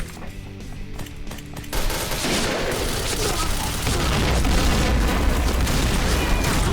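Sustained light machine gun fire from the Honey Badger in the shooter game Point Blank, a dense rapid stream of shots and booms that starts after a quieter opening and runs loud to the end.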